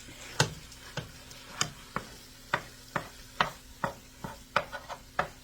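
Ground beef, about 1.5 pounds, hits a hot pan for chili and is broken apart with a utensil, giving a series of sharp, close scraping taps over a faint sizzle, roughly two or three strikes per second.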